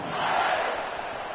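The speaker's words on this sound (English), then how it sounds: "this crowd now ready to get behind them" Stadium crowd in the college football game NCAA Football 26 before a kickoff, a broad, steady roar of many voices that swells briefly and holds at moderate loudness.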